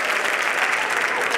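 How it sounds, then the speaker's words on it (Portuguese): Applause from a comedy show audience, a steady dense wash of clapping that carries at full strength the whole way through, with no voice over it. "Aí, eles aplaudem,"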